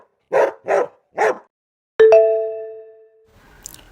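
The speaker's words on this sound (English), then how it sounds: "This is dog." A dog gives three quick, sharp barks close up, then a ringing chime sounds and fades.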